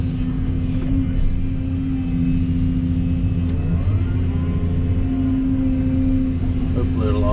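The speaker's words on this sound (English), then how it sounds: "use the excavator" Excavator engine running steadily while moving soil at a backyard pond dig, a loud continuous mid-pitched rumble with a strong constant hum throughout, with faint speech in the background.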